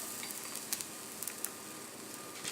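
Besan aloo paratha frying in a little oil in a pan, giving a soft, steady sizzle with faint crackles throughout, no voices.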